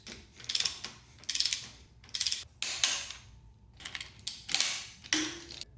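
A torque wrench ratchets in short clicking bursts while tightening the steering stem top bolts on a BMW S1000RR motorcycle, with around eight quick, close, mechanical bursts separated by brief pauses.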